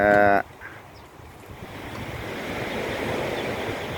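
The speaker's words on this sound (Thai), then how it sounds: "ทะเลในเมืองนะครับเขาเรียกทะเลในเมืองเนาะ" Sea waves at Suchada beach in Rayong wash in as a steady, soft surf hiss with some wind noise, following a brief loud tone at the start.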